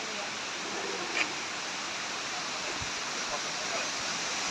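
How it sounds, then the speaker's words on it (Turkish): The waterfall at Harbiye in Hatay, a steady, even rush of falling water heard from a moderate distance, faint but continuous, with a few soft knocks and sounds from nearby people. "Şöyle güzel bir şelalemiz var."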